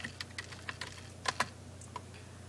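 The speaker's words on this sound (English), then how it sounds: "go through start, search, CMD, type in IPconfig." A computer keyboard clacks with a short burst of quick, light keystrokes, a couple of them louder, close by over a low steady hum, with no voices.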